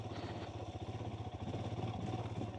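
Motorcycle engine pulling hard through a wheelie, heard from a helmet-mounted microphone as a steady, close mid-pitched drone with a strong low throb and constant wind rush.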